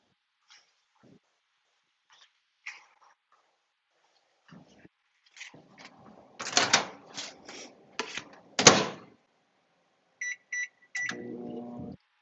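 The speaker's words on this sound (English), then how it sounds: "Let me go throw that in my microwave." Clattering and clicks of a door and keypad beeps, followed by the low steady hum of a microwave oven starting to run.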